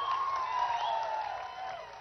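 A large crowd at a BRS party public meeting in Bhupalpally, Telangana, applauds and cheers in a continuous dense roar, with shrill tonal whoops or whistles riding over the noise.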